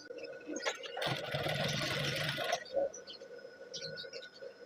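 Sewing machine stitching a sleeve seam on a uniform shirt, running in a loud dense burst for about a second and a half, then stopping, with faint handling noises and soft clicks afterward.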